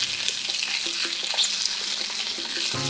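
Shrimp heads and shells fry in olive oil in a pan, giving a moderate, even sizzle with light taps and scrapes of stirring scattered through; nobody speaks.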